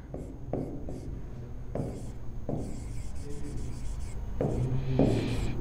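A teacher writes out a question on a board during a Class 10 lesson, with irregular scratchy strokes and short rubbing bursts in a quiet room, with no voice over the writing.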